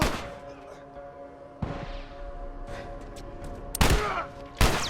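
Gunfire in the video game The Last of Us comes as a few sharp, loud bursts at irregular intervals over a low in-game background hum.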